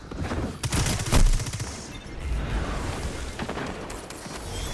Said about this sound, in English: Humanly, I cannot react to being shredded by an SMG in this mode.